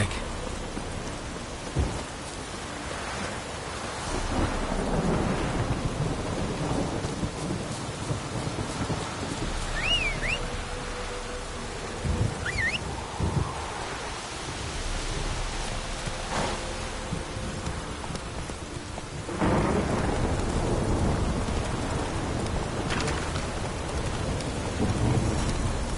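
Heavy rain pours steadily through a thunderstorm in The Witcher 3, with several deep thunder rumbles and crackling lightning strikes rising above it, one loud crash near the end.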